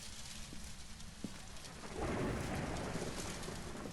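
Rain patters steadily against the windows of a diner in the Phasmophobia video game, a soft continuous hiss that grows heavier and louder halfway through, with no voices.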